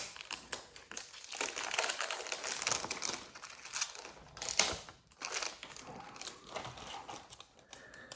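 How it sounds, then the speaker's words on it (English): Quiet crinkling and crackling of plastic wrap being peeled off a Microsoft Surface 65W charger, irregular rustles and small snaps close by with no talk. "Let's take off this plastic."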